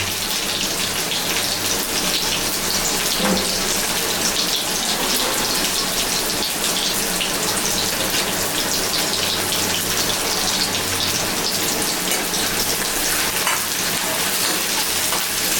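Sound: onions frying and being stirred for cucumber chicken curry

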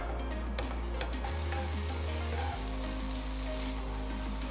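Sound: bacon sizzling in hot pan

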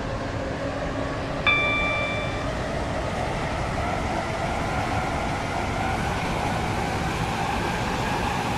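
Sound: passenger train running, from a video game

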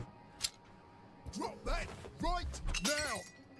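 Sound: glass bottle shattering in the video game We Happy Few

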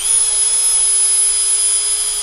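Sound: Dremel with felt polishing wheel polishing lock picks

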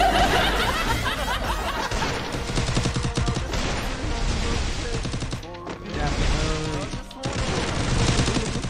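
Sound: gunfire in the video game Free Fire

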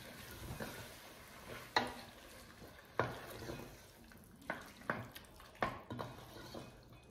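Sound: tomato sauce cooking and being stirred in a pan

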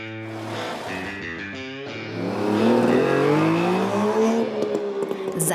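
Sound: old rally cars driving, including an Opel Manta

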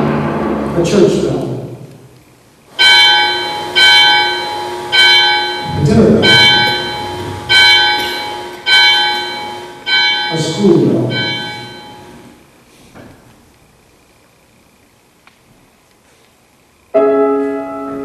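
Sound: church bell ringing

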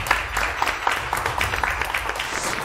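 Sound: audience applause

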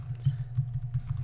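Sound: typing on a computer keyboard

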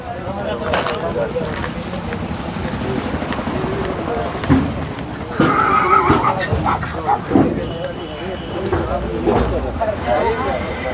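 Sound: horse neighing at horse market

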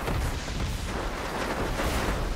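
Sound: gunshots from enemies attacking in video game

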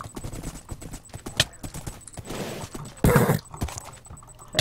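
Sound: horse hooves and neighing in a video game

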